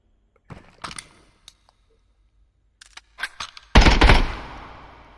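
Sporadic 5.56x45 M995 armor-piercing rounds fired at a target in legendary armor in the shooter game Contractors Showdown: a few scattered sharp shots and clicks, then a loud dense burst of gunfire near the end.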